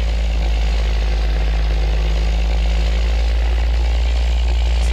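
Volvo FH5 truck engine in a driving game, a steady loud low drone with mid-frequency clatter, holding an even note without clear rises.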